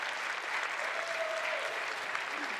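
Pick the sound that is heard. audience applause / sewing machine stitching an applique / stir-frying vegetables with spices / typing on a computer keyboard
audience applause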